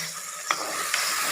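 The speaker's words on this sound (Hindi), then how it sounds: "टमाटरों को थोड़ी देर के लिए अच्छे से फ्राई करते हैं इसमें," Tomatoes fry in a pan for mutton keema with a steady, bright sizzle, broken by two brief scraping stirs about half a second apart, heard up close with no voices.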